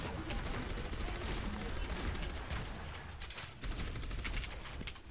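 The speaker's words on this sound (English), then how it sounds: "Bad turret!" Rapid automatic turret fire in the video game Overwatch, a dense continuous rattle of shots lasting throughout, loud and close, with a brief dip midway and game noise around it.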